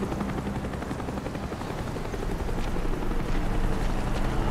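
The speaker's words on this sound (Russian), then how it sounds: "вертушка пролетела прям под носом" A helicopter in the video game Call of Duty: Black Ops flies past overhead, its loud rotor thudding and engine roar filling the scene and swelling slightly as it draws nearer, with no talk over it.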